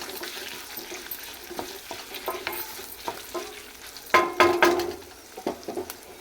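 Turmeric being stirred into hot tamarind chutney after the stove is switched off, heard as a steady soft scraping and sizzle, with a louder burst of clattering stirring midway, close and alone without talk.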